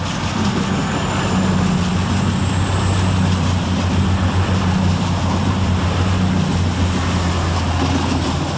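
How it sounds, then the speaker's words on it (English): An East Midlands Railway Class 222 diesel unit runs through Woodhouse railway station, a loud steady engine drone and roar with rising whine, close and continuous, no talk. "Running some 17 minutes late is 222006, working 1 Foxtrot 10 for East Midlands Railway from London St Pancras to Sheffield."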